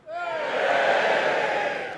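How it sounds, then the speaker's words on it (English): A comedy show audience of people aged 50 and over cheers and whoops loudly together, a dense crowd roar swelling quickly and holding steady for about two seconds. "give me a cheer in here if you're 50 or over."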